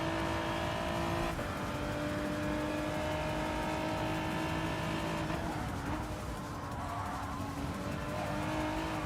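A race car in a racing video game, driven on a time-trial lap of the Red Bull Ring, revs loudly and steadily, with sustained engine tones rising and shifting throughout and brief tire squeal.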